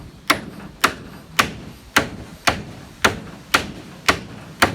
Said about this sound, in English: Take the trusty shop hammer,